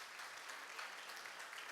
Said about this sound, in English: Can I ask you to give a big round of applause to our panel speakers?